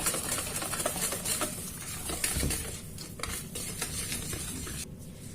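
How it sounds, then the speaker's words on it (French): A spoon mixes apple cake batter flavoured with cinnamon in a bowl, making a busy run of wet scraping and soft clinks that thins out toward the end. It is close, with no speech. "Et après, bien évidemment, on va mélanger."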